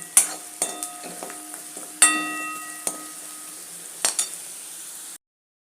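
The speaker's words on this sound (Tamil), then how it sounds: "தனி மிளகாத்தூள் சேர்த்து ஒரு ரெண்டு நிமிஷம் நல்லா வதக்கிடுவோம்" Chili powder and spices sauté in a pan under a faint sizzle, broken by sharp clinks and scrapes of a utensil against the pan.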